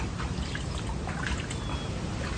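Fast-flowing stream water in a rural Philippine province, a continuous close rushing and trickling wash with no breaks and no voices.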